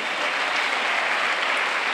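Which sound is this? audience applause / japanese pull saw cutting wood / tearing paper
audience applause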